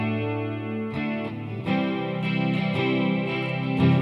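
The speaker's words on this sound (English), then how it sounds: "It's got a nice echo effect on that DC-30." Electric guitar chords played through a Boss Katana MkII amp using its Roland DC-30 chorus and echo model, rich and shimmering with repeated strums sustaining and layering into a dense wash, heard alone without talk.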